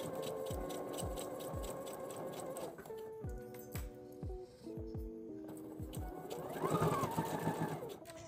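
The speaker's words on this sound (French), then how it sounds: "Nous pouvons retourner le biais et faire une surpiqûre en cachant la couture précédente." A sewing machine topstitches along turned bias binding on fabric, running in quick rhythmic bursts of stitching with short pauses and changes in speed, fairly faint and close.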